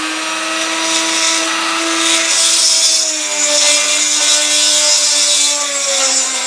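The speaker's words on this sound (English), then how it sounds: "So I'll drill out the others." A steady, high-pitched power tool whine runs continuously, a drill boring out holes in a Dinky Toys Pullmore car transporter model during restoration, with a slight pitch dip midway, loud and close.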